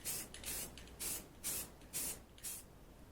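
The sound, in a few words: spray painting a coat on a motorcycle fairing's inner side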